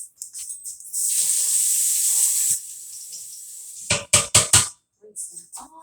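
Kitchen tap gushing as a dropped spoon is rinsed, a loud hiss lasting about a second and a half, followed by a few sharp clattering knocks and brief speech.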